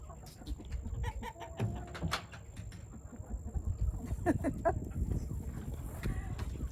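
Chickens and roosters on a homestead cluck and squawk in scattered bursts, near and far, over a faint steady hum, with a few sharp calls standing out from the flock.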